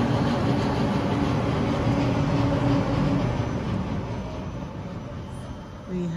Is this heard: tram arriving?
yes